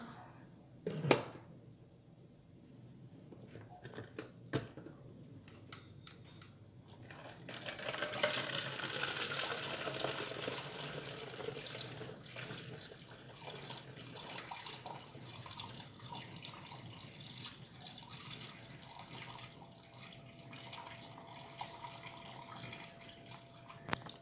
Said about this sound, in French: Il suffit de la mettre dans votre bouteille à l'aide de l'entonnoir.